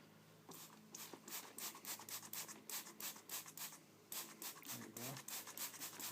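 Soft rhythmic patting and rubbing on the grill cloth of a tolex Fender 4x12 guitar speaker cabinet during cleaning, a quiet series of scratchy strokes close by with a brief pause midway.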